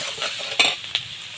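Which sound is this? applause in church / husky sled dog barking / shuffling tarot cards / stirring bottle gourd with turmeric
stirring bottle gourd with turmeric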